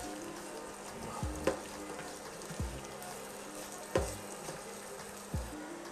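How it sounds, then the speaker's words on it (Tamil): Onions fry in a pan with a steady, close sizzle that runs throughout, broken by a few soft knocks and stirring scrapes at irregular intervals. "வெங்காயம் கொஞ்சம் பொன்னிறமாக வதங்கட்டும்."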